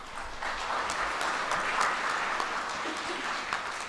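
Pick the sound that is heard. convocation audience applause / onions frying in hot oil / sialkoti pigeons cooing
convocation audience applause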